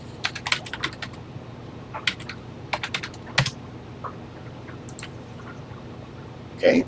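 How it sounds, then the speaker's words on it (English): Keys clatter on a TI-99/4A home computer keyboard in quick irregular bursts of taps with short pauses, close and clear, with no voices. "we're typing too fast here"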